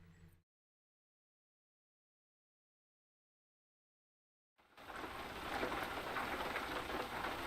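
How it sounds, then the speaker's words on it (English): Steady rain hisses and patters during a truck-driving video game, bursting in abruptly after a brief sound and several seconds of silence, then continuing dense and even to the end. "It's raining pretty good, which is kind of nice."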